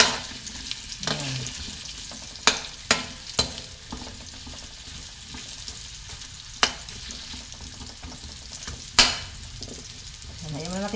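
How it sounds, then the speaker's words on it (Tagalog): Chicken for chicken caldereta sizzles steadily as it is sautéed in a hot pan, with occasional sharp clacks of a utensil against the pan and some stirring. "Saka natin gisahin ba."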